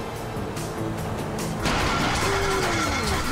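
A damaged boat engine in Grand Theft Auto V runs with a rough, loud mechanical drone, a sudden heavier surge partway through and a rising whine near the end.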